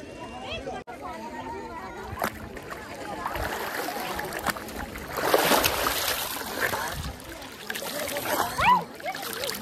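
River water sloshes and splashes around feet playing in the sandy shallows of the Godavari, with soft trickles and bursts of splatter, mostly under a person talking close by.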